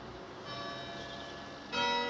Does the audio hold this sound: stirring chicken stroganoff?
no